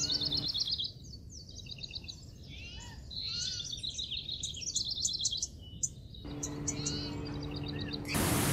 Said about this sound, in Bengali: পাখির কলগুঞ্জন